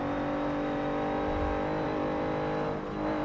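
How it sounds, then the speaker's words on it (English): A muscle car engine drones and revs steadily from inside the cabin in Forza Motorsport 7, a loud, continuous throaty hum with layered harmonics that dips slightly near the end. "just hear the sound from the inside of the car too, just all muscle"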